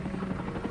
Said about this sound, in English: The helicopters roar up Rokel Creek